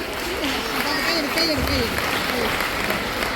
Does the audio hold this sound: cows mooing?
no